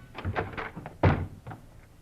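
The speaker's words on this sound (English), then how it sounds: "in a quick movement, they rushed the door to Frank Hadley" A 1945 radio crime drama sound effect of FBI agents rushing a bedroom door: one heavy, close thump lands midway through a brief run of muffled shuffling and knocking.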